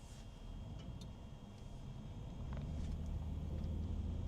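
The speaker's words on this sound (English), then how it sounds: "Here comes a bunch of cars, probably all coming out of the mall." Several cars pass on a snowy road by a mall parking lot, a faint low traffic rumble that grows slightly louder toward the end.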